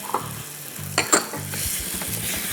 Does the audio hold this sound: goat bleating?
no